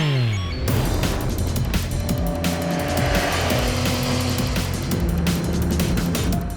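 A 2021 Yamaha Tracer 9 GT motorcycle rides along with a loud, continuous engine drone as revs climb and settle through gear changes, mixed with heavy wind rush, with no talk.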